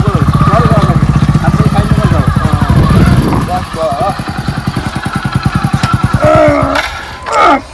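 A motorcycle engine runs nearby with a rapid, pulsing putter that rises and falls, while people talk loudly over it in a village setting.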